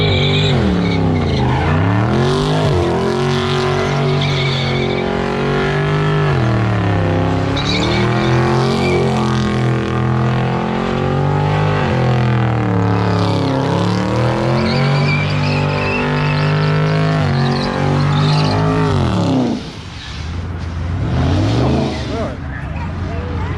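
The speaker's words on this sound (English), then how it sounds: "You can hear his tires sticking." A car engine roars at high revs while tires screech and squeal continuously in a long, smoky burnout at a charity car meet, loud and close, with voices shouting underneath.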